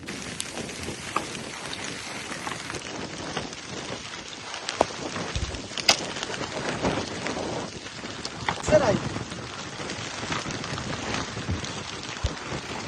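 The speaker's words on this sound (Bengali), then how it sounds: "এর সাথে ঝড়ো বাতাস ছিল, তার উপর শুরু হলো বৃষ্টি।" Rain lashes down in a storm on the Padma river at night, mid-river aboard a boat: a dense, steady roar with scattered louder gusts and splashes, close and constant throughout.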